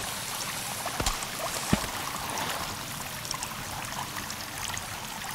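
Water running and trickling through a cave in the survival game Sons of the Forest, a steady broadband rush with a couple of brief knocks, continuous and fairly close.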